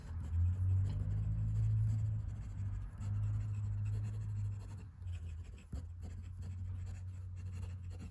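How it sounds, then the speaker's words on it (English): Fast handwriting with a Stilform INK fountain pen's steel nib, a continuous close scratchy rasp of nib on paper with brief pauses between strokes, no talking. "I should just do some fast writing."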